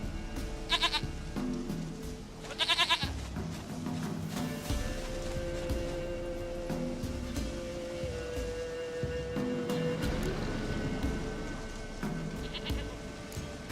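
Goat bleats from The Witcher 3: two short quavering bleats early on, a fainter one near the end, over a low steady game ambience with scattered soft clicks.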